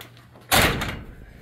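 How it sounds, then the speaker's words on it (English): A single loud slam of a metal garden shed door shutting nearby, with a brief rattling decay afterward. "let's shut this door."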